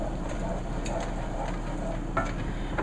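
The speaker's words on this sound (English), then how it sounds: "I add oregano, probably about, half a teaspoon. Stir that in." Oregano stirred into homemade pizza sauce makes a soft, thick swishing as a spoon drags through the pot, with a faint low simmer and a light tap near the end.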